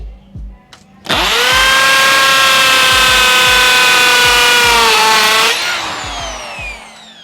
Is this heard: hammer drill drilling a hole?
yes